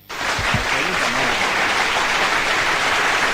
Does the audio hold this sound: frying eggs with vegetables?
no